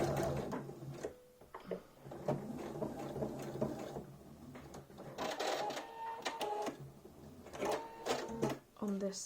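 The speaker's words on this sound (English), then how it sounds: "I'm just going to sew that row again, or that line, which is the last one." Electric sewing machine stitching a final row on a fractured skull quilt piece, its motor running in stop-start bursts of fast mechanical whirring; a voice talks over some of the gaps.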